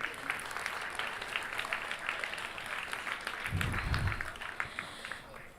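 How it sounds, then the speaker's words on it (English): Crowd at a cultural festival evening gives a sustained round of applause, steady, dense clapping heard from some distance at a low level, with a brief low rumble partway through. "Could we have a round of huge applause once again?"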